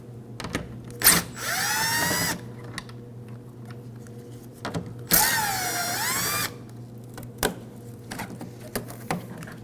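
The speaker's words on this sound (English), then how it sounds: "Now we have two 7mm bolts." Two 7mm bolts are removed from a 2009-2014 Ford F-150 tailgate with a power driver, giving two whirring bursts with a rising pitch, amid scattered clicks and taps from handling the tool and parts.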